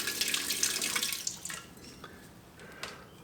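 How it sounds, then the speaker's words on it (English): Fuel being flushed through the injectors of a 2011 Honda CB400SF on the bench, a faint hissing spray in short bursts with splashy liquid trickles between them. "You just flush that fuel through."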